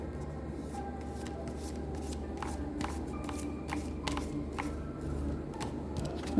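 A deck of tarot cards being shuffled by hand, giving repeated soft riffling and sliding bursts over a steady low background, close to the listener and with no talking.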